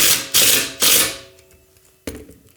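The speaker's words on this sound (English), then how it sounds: "get the wrench on there." A ratcheting wrench tightens a bolt during a transmission installation, giving three loud bursts of dense clicking in quick succession, then a pause and a final sharp click near the end.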